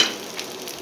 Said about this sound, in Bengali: এই চিংড়ি এখন একটু হালকা হালকা ভাজা ভাজা হয়ে যাবে